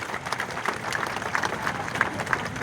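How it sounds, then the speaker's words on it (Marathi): Rally audience in Maharashtra breaking into sustained applause, a dense wash of many hands clapping at moderate distance with steady intensity throughout, a few voices faintly mixed in. "जोरदार टाळ्या वाजवा त्यांच्यासाठी"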